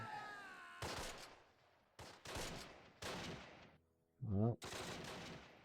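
Machine-gun bursts in the Close Combat WWII strategy game, four sustained rattling volleys separated by short gaps, loud and close, with a brief spoken word between two bursts.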